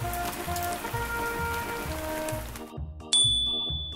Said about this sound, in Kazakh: Жаңбыр.